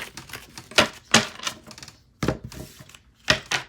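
A tarot card deck is shuffled close by in several quick, crisp bursts of riffling paper, each a fraction of a second long with short pauses between them, with no talk.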